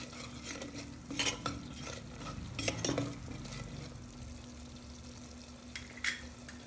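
A spoon stirs goda masala through brinjal and potato frying in a pan, with scraping strokes and clinks over a gentle sizzle, no talking.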